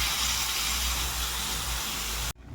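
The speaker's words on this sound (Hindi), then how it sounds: "तो चलिए जो तड़का मैंने लाया हूँ वो इसमें डाल देते हैं।" Hot tadka tempering poured into a dish gives a loud, steady sizzling hiss that holds for about two seconds and then cuts off abruptly.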